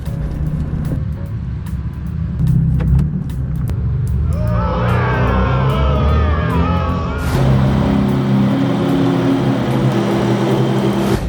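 A BMW M4 F82 rumbles at low speed through a parking lot, its engine note swelling as it turns and reverses, with a higher whine and tire noise joining midway; a voice speaks faintly underneath.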